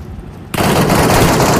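Sudden dense bursts of rapid gunfire erupt loud and close in a battle royale tournament match, continuing without pause after a brief quieter moment.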